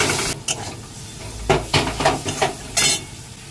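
Okra stir-frying lightly in a pan, with a run of distinct scraping stirs and clinks of a utensil against the pan over a soft, steady sizzle, close and fairly loud.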